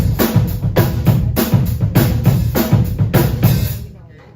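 Drum struck with drumsticks in a steady, loud rhythm of sharp hits with bright cymbal-like shimmer, about seven strokes before ringing out and fading.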